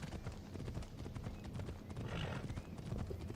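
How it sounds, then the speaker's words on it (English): Phobos, a horse in the Assassin's Creed Odyssey video game, gallops in steady rapid hoofbeats with a brief whinny, loud and continuous over a busy game soundscape. "You absolute demon of a horse"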